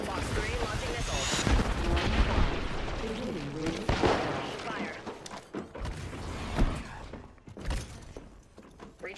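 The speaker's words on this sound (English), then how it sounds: "Firing. Box 3 launching missiles." Video game combat with missiles launching and weapons firing, heard as a dense run of booms, bursts and mechanical clatter that peaks and fades. Voices speak over the battle.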